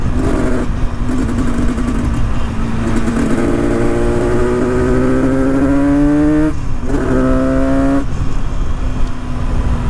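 A tuned Yamaha RD350 two-stroke motorcycle revs hard and close, its exhaust note climbing in pitch, dropping between gear shifts, then climbing again.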